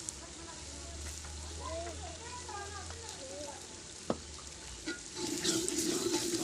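Red chilli and turmeric roasting in a pan for potato pea rice: a continuous low sizzle with occasional stirring scrapes, close by, a single sharp clink near the end and louder frying toward the finish.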